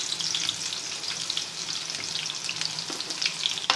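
Onions frying in hot oil with curry leaves and cumin, a continuous crackling sizzle with small pops, close and fairly loud.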